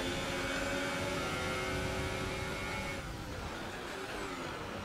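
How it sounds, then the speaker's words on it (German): Race car engine lacking power, droning steadily inside a tunnel in F1 2018, a constant close hum and buzz with a slight dip in tone partway through. "Man merkt übrigens im Tunnel ganz deutlich, dass unser Motor kaum mehr Leistung hat."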